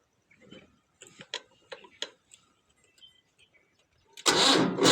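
A Swaraj tractor at its factory-set throttle: a few faint clicks and knocks give way to a sudden loud, steady engine roar that fills the last second, heard close with no talking.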